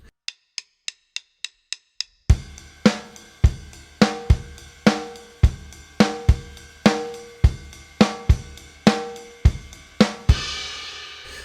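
A drum groove in 7/8 time opens with quick, even ticks, then kick, snare and cymbal hits settle into a steady pattern with a slightly uneven, lopsided feel, ending in a crash.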